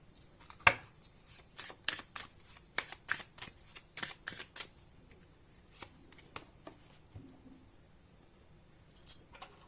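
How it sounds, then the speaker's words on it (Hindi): Tarot cards drawn from a deck and laid down into piles, giving a series of crisp, close slaps and flicks in an irregular rhythm, some sharper than others, with no talk. "ये 3 कार्ड्स मैं निकाल रही हूँ, बस ऐसे ही पाइल्स बना रही हूँ"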